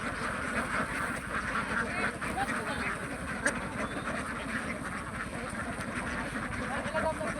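Ducks quack throughout on a large duck farm of about 1,200 birds, a dense, continuous chorus of overlapping calls close by, with occasional faint voices mixed into the flock noise.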